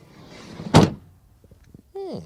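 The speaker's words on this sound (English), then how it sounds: "we start with the door closing sound of the sliding door" Sliding side door of a Ford Transit Custom van slammed shut with one loud, solid thump, followed by faint latch clicks; a voice is heard briefly afterward.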